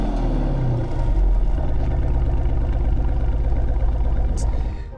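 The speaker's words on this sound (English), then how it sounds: "this car is extremely loud" A 2025 Porsche Cayenne GTS engine rumbling loud and close, a steady deep throbbing drone that holds for several seconds before easing off.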